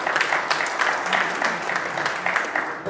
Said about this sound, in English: Give Marty a round of applause.